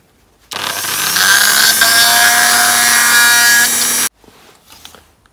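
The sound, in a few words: flat grinding wheel grinding around edges of diecast toy light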